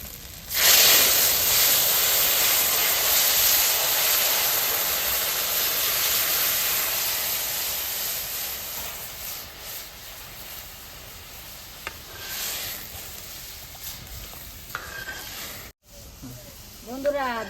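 Dal poured into a hot tempering of ginger, panch phoron and dried chilli gives a loud sudden sizzle that slowly fades to a gentle hiss.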